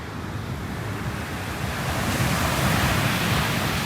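Ocean waves at a beach roll in as a broad loud wash of surf, swelling louder halfway through, with wind buffeting the microphone and no voices.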